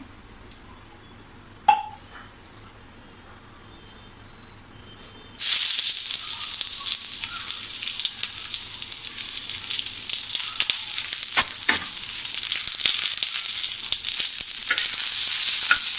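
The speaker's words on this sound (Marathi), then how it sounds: "त्या भाजीसाठी लागणारं जे वाटण आहे ते आपल्याला छान असं भाजून घ्यायचं आहे" Spice paste hitting hot oil on an iron tava for a home-style vegetable curry: a couple of soft clinks, then a sudden loud, steady sizzle that continues with light scraping and stirring.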